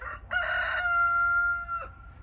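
A domestic rooster crows nearby on a rural property, one loud sustained cock-a-doodle-doo lasting over a second after a brief clucking start, with no talk.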